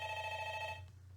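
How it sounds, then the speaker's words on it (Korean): A telephone rings during a lecture, a steady electronic ringing tone that cuts off partway through, leaving quiet room hum with no speech. "전화가 자주 오네요"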